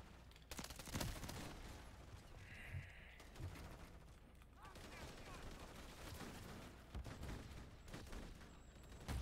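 Shotgun blasts ring out in the Modern Warfare 3 video game, a burst of sharp gunfire reports scattered amid noisy game action, fairly faint overall.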